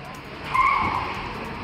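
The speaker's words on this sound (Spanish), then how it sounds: "En su veloz huida, el pequeño auto Kia casi choca con un bus de transporte público" A small Kia car speeds away in a getaway, a short burst of tire skid and engine noise rising and fading over about two seconds.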